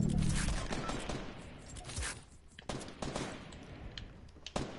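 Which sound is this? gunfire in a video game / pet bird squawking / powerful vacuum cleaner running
gunfire in a video game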